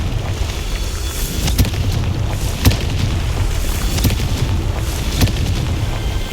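Confringo fire spell in Hogwarts Legacy, a series of loud booming blasts at roughly one-second intervals over a dense rumbling, crackling game background.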